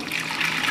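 Soup base for a Hungarian betyár soup is poured into a pot, a brief steady gush and splash of liquid, close and fairly loud, with no talking.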